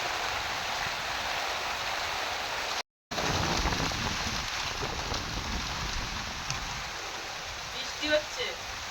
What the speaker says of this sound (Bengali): কি জোর বৃষ্টি হচ্ছে এদিকে, আর আকাশে কি মেঘ।